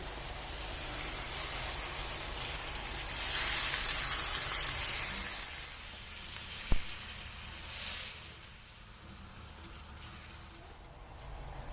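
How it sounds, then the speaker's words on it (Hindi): A soft, steady hiss and bubbling of water heating in a pot for mutton karahi, with a brief clink partway through and the sizzle easing toward the end. "अब ये पानी भी बॉईल होना शुरू हो चुका है।"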